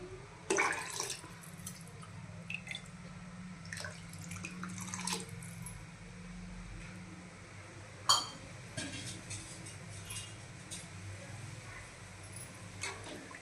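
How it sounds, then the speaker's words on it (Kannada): Water from a cup splashes onto rice in a pot, in several faint pours and trickles with small clinks between them, close by and quiet, with no talking. "6 ಲೋಟ ನೀರು ಹಾಕ್ತೀನಿ ರೀ."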